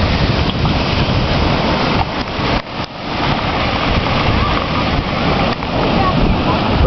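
Hurricane Earl surf pounding the rocks and sea wall at Newport, Rhode Island, a loud continuous roar of crashing waves with heavy wind buffeting the microphone, and people talking faintly beneath it.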